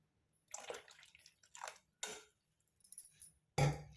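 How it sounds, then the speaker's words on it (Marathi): Water is poured into a Konkani-style bangda (mackerel) fish curry with ginger-garlic paste and turmeric, making several short splashing bursts that end in a louder, fuller pour, close by and with no talk. "थोडंसं पाणी घालणार आहे मी यामध्ये"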